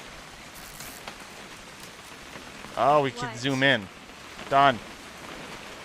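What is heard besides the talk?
rain in video game What Remains of Edith Finch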